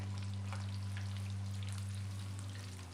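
Chicken pieces fry in oil at about 150 degrees, giving a steady, even sizzle with light crackling and popping, close up, with no talk.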